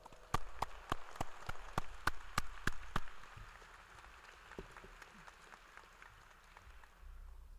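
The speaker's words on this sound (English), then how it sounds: "Let's give them a round of applause." Sparse clapping at a college commencement ceremony: about a dozen distinct, sharp handclaps in a brisk rhythm, followed by a few faint scattered claps trailing off into a quiet hall.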